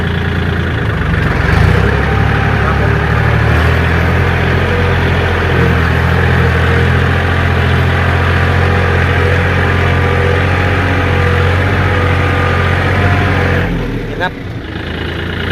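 A Kubota L4018SP tractor engine runs loud and steady while pulling a disc harrow, holding a constant low drone for most of the stretch before it dips and shifts near the end.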